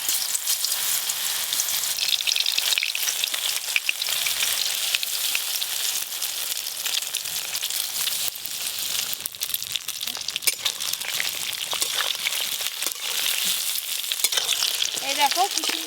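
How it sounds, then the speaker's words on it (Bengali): Eggplant pieces fry in hot oil, a steady close sizzle with crackling pops running unbroken from start to end, loud and alone with no talking. "এই দেখো কি সুন্দর ধীরে ধীরে বেগুনগুলো ভাজা হয়ে যাচ্ছে।"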